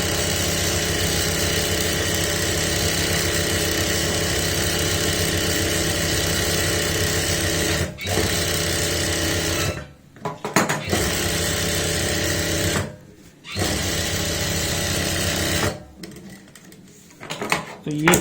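A sewing machine double-stitches a churidar pyjama seam, running in a loud, dense, continuous whir that stops abruptly several times and then restarts in short bursts.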